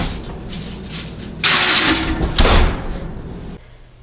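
A kitchen oven door is swung open and shut while garlic bread goes in, giving two loud rushing bursts with a clunk against quieter background hum.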